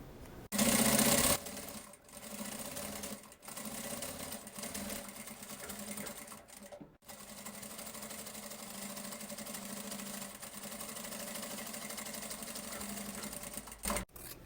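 A sewing machine stitches the lining of a necessaire close to the zipper with the same presser foot, running in steady continuous bursts with short pauses between, close and fairly loud.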